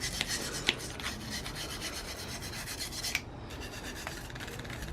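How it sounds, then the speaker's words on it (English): A wire brush fitted on a screwdriver scrubs carbon deposits from a car engine's intake ports by hand, a steady close rasping rub with a few sharper scrapes and no talking. "now I'm just doing it manually with the screwdriver with the brush on the end"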